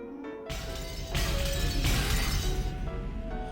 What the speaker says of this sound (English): All over the mansion there were loud beating sounds that could be called knocks, and the sound of shattering glass.